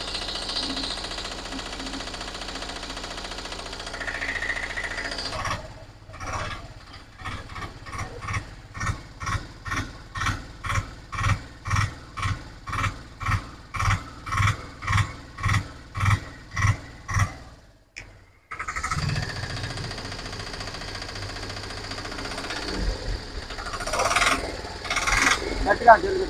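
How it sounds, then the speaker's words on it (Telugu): A Piaggio Ape auto-rickshaw engine, BS3 or BS4, runs with a dense knocking beat, then settles into a steady series of loud, evenly spaced pulses before cutting out briefly and picking up again. "ఇప్పుడు దీన్ని స్టార్ట్ చేసి దీని యొక్క బీడింగ్ ఎలా ఉందనేది చూద్దాం."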